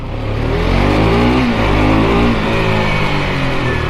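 A 2021 KTM RC 200 BS6 motorcycle engine revs loudly up close, its pitch climbing as it accelerates with a steady rising drone.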